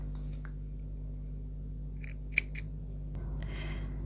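Scissors snip through yarn while a checkered crochet bag is being made. A couple of close, sharp metallic snips stand out against a quiet room hum.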